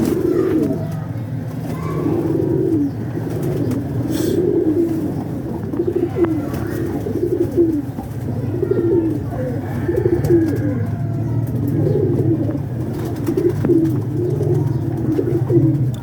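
Pigeons cooing in a loft, a steady chorus of repeated low throaty coos close by, pulsing in overlapping rhythmic phrases over a constant hum of background noise.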